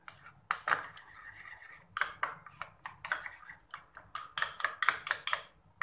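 Chopped mint being stirred into chutney with a spoon in a small bowl, giving a string of close, sharp scraping and clinking taps in an irregular rhythm, with no talking.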